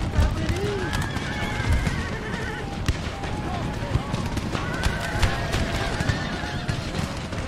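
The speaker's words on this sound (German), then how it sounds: "Die Kavallerie greift weiter an." A cavalry charge in the battle game Empire: Total War: horses neigh and whinny over a rumbling mass of hooves, with distant battle clamour and a voice talking over the noise.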